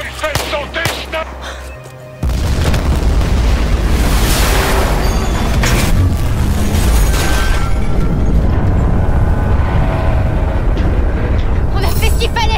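A loud, sustained explosion in the Battlefield 4 video game erupts after a quieter opening, with a heavy low rumble and crackling debris filling the rest of the scene amid game sounds.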